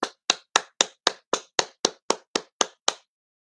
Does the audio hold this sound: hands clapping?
yes